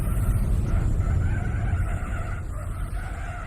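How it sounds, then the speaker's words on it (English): Tyres squeal and scrabble for grip as a car slides out of a corner in Gran Turismo 4, a continuous loud skidding wash over low engine rumble, steady throughout with no voices. "Listen to the lack of traction out of the corner."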